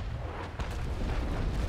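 Ship cannon fire in the naval combat game Naval Action, a sequence of dull booms over a constant low rumble, with a sharper report near the middle of a short burst.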